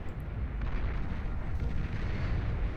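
Artillery units firing in the strategy game Beyond All Reason produce a dense, rumbling barrage of low booms rolling together continuously, loud and without pauses.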